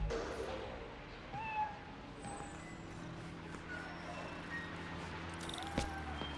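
A cat meows a few times in Marvel's Spider-Man: Miles Morales, short plaintive calls rising over a quiet hum of city ambience, with a faint beep and a brief higher cry near the end.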